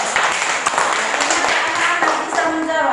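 Schoolchildren clap together in a classroom, a dense burst of rapid hand claps lasting a few seconds, loud and close.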